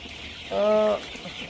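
A farm chicken gives one short, tonal cluck lasting about half a second, fairly close and clear against a quiet background murmur.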